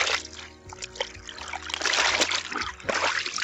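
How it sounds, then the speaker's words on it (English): Water is squeezed out of a hand-washed bed sheet, producing close, uneven splashes and dribbles that come in bursts as the fabric is wrung. "Then you just squeeze your water out."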